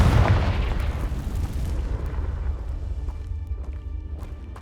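A blasting spell explodes in the Hogwarts Legacy video game, giving a loud low boom that rumbles and slowly fades over several seconds with scattered crackles of debris.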